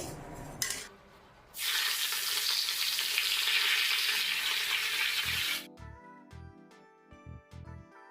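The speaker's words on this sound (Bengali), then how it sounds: "এখানে মুগের ডালটা আমি একটু ভেজে নিচ্ছি।" Moong dal being fried in a pan gives a loud, dense hiss that starts suddenly, holds for about four seconds, then cuts off, leaving a few soft clinks and knocks.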